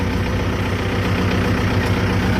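A 2019 Kubota MU4902 tractor engine running with the PTO engaged, a loud, close, steady diesel drone with a low rumbling throb and no change in pace.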